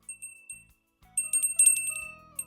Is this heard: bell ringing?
yes